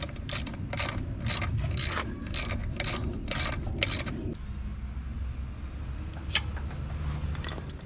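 An Allen wrench ratchets on a Dexter DB35 trailer brake, about eight quick sharp clicking bursts in a steady rhythm close by, then stopping, leaving quiet shop ambience with a faint click.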